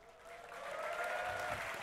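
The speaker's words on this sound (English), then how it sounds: "Let's have a cheer for Gosu Pepper and Snoopy." An esports crowd at Dreamhack 2012, a League of Legends tournament, breaks into applause and cheering that swells from moderate to loud and holds steady, a broad wash of clapping filling the hall.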